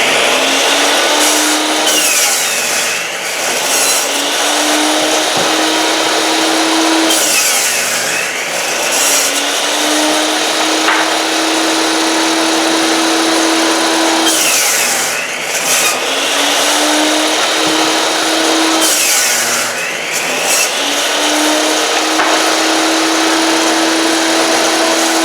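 A power saw makes repeated crosscuts through wooden boards for a tapered Conibear trap box for bobcats and raccoons, with four loud whining cuts spaced steadily over a continuous motor drone, each rising and then falling away.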